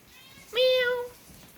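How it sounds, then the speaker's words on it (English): A single loud, drawn-out meow from Boston the cat, rising then falling over about half a second, close and clear against a quiet room while rain falls outside. "You're meowing because of the rain."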